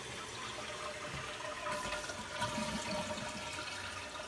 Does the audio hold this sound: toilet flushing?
yes